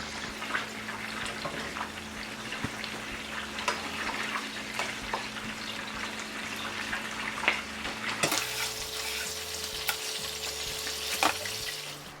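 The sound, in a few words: potato wedges frying in oil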